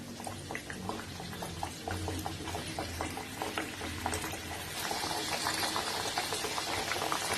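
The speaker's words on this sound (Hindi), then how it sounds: "अब हम उसमें एक एक करके बनाना पूरी डाल देंगे और इसे हमें मीडियम फ्लेम पर हल्का पिंक होने तक फ्राई कर लेना है।" Banana puris deep-frying one by one in hot oil over a medium flame, giving a steady bubbling sizzle with crackly pops; the frying grows louder and denser partway through.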